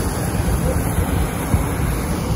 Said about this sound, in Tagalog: Yan yung tubig sa Davao River guys,